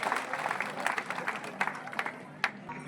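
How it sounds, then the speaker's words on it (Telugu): A scattered round of clapping greets a ward member at a Kuruva community felicitation event in Marikal, Narayanpet district. Individual claps stand out against a faint crowd murmur. "వారికి ఒకసారి చప్పట్లు"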